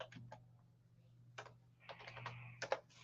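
Keys clatter on a computer keyboard in short, irregular bursts of clicks, fairly quiet and close, over a steady low background hum.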